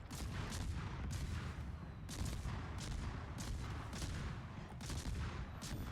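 Fletcher class destroyer guns fire in a naval video game, a dense run of muffled booms and salvos layered over constant low battle rumble.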